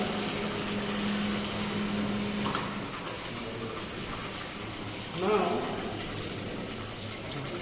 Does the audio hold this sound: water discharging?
yes